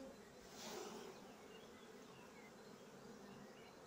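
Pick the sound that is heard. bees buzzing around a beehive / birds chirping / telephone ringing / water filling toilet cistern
bees buzzing around a beehive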